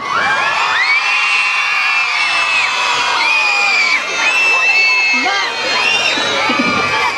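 Schoolchildren in Gela shout a joyful cry together, a dense, continuous crowd of high excited voices with whoops and rising calls, loud and sustained throughout with no pauses.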